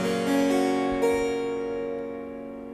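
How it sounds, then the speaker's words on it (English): A harpsichord's lower manual plucks a single set of strings, sounding a few crisp notes that ring and slowly decay, heard quietly and alone in a room. "The lower manual plucks 1 set of strings and sounds like this."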